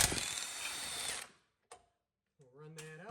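Air impact wrench on a 2014-2019 Jeep Cherokee spinning out a 21mm rear shock bolt with a swivel socket, a loud steady burst for about a second, then a brief click and a clank of metal.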